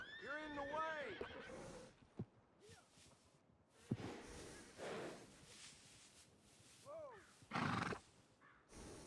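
A horse in Red Dead Redemption 2 whinnies loudly at the start with a rising-falling trill, followed by snorts, hoof clops and brief bursts of breath, with a later short whinny and scattered game noises.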